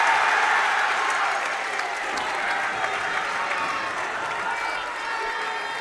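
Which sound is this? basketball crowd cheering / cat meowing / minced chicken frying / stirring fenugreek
basketball crowd cheering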